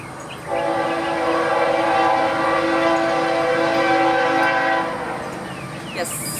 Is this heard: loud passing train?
yes